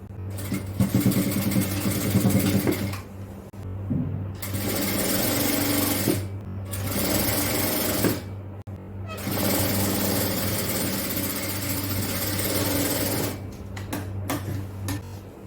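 A sewing machine stitches the joined seam of a top, running in loud steady bursts with short pauses between runs.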